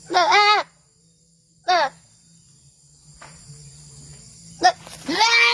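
A goat bleats in several short wavering calls, close and loud, separated by quiet gaps with faint background noise.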